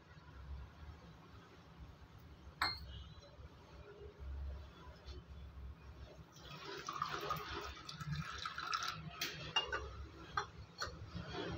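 Thick filter coffee decoction is poured into a tumbler in a home kitchen, a faint liquid trickle that swells into a fuller splashing pour during the second half.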